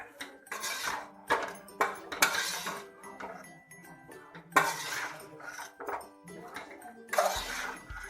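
A spoon scrapes and clinks against a metal pan while tapioca is mixed with egg masala for a Kerala street-food kappa mutta, giving irregular close clatters and taps over a quiet background.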